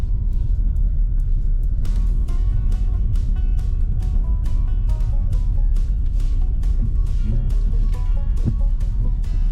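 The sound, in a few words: car driving around French Creek Marina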